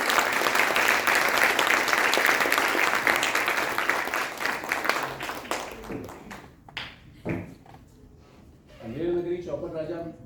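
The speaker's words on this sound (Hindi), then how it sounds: "तो एक बार जोर से इनके लिए हाथ तालियां" An audience at a Hindi stage play gives loud, dense applause for the director. The clapping thins out after about six seconds into scattered claps and background noise, and a voice begins speaking near the end.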